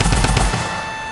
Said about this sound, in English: Oh, you're using your drum gun.